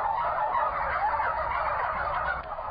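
Turkeys at a farm gobble in a loud, continuous chorus of warbling calls. Many birds overlap close by with no pauses, and no one talks.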